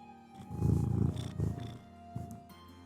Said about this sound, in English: I heard cat purrs.